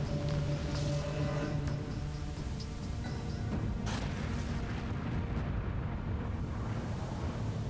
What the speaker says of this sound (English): The blast tears a massive chunk of kimberlite and granite from the pit